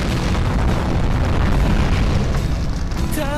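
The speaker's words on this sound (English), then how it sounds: "Bomb exploded." Bomb exploding in the shooter game Point Blank, a loud, dense, sustained blast roar filling the whole clip with rumbling low end.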